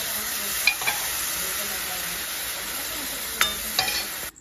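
Peas going into frying spiced masala for ghugni: a constant sizzle with a couple of sharp spoon scrapes and clinks against the pan, close and fairly loud, no voices.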